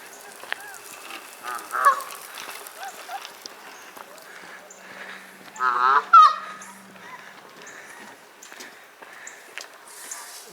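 Goose at Lake Junaluska in the evening honks loudly in two close bursts, with scattered softer honks and calls around them. Outdoor lake-shore ambience fills the gaps, and a person speaks nearby.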